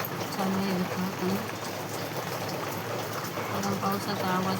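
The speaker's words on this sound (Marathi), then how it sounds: "बघा पावसाचा आवाज पण येत असेल त्यामध्ये." Rain falling outside a home kitchen during a monsoon shower while cauliflower is chopped for a curry, a continuous even hiss of drops heard indoors, with a voice talking over it.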